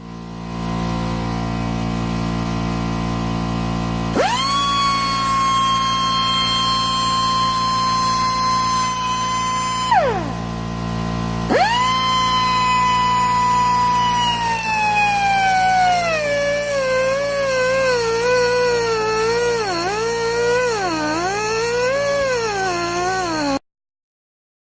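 An air-powered cut-off disc grinder cuts off a lawn mower engine part, giving a loud, steady whine that starts, breaks off briefly, then resumes with its pitch sagging and wavering as the disc bogs under load.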